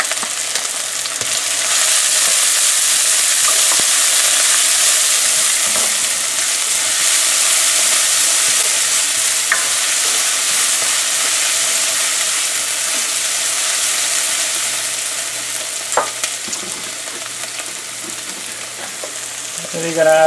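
Onion and shallot sizzle in hot oil in a karahi, a steady, dense frying hiss that continues evenly throughout with a few faint clinks near the end.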